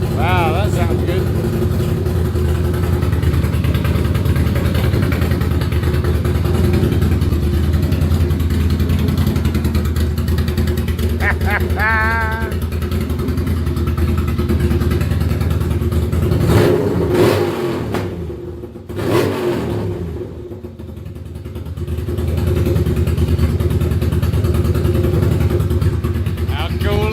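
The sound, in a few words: Ducati Monster cafe racer motorcycle engine first start, revving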